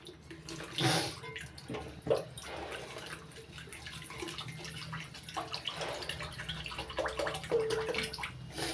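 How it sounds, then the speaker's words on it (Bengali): Water pours into a cooking pan for a curry of cauliflower and paneer, a faint continuous splashing and trickling with a few brief clinks, heard alone. "এবার দিয়ে দিচ্ছি পরিমাণ মতো জল"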